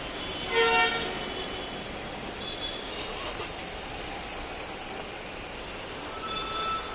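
Congested street traffic in Bhiwandi, with a brief car horn toot near the start and another faint honk later over a constant roar of idling and crawling vehicles.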